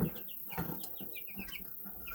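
Chickens cluck softly nearby in short, quick bursts of chirpy notes over a quiet background.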